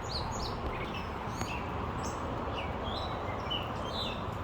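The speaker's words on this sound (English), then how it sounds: "you hear the birds like crazy" Birds chirp and tweet in scattered high calls over steady broadband background noise on an outdoor nature walk beside a bridge, the calls faint to moderate and spread throughout.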